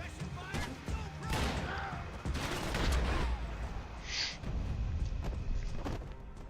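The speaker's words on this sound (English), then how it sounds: "Gunfire over Hoboken." Rapid bursts of video game gunfire crackle and thud in overlapping volleys over Hoboken in Max Payne 3, with voices mixed into the busy, chaotic sound.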